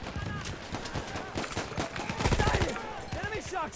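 Gunfire from the Battlefield 1 video game, where the Burton rifle is in use: dense bursts of shots and explosive cracks close by, with a voice talking over the battle noise.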